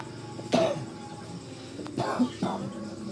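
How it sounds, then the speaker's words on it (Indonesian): A person gives a couple of short, close coughs and throat-clearing sounds during an abdominal massage, with faint talk in the quiet room around them. "Sok batuk."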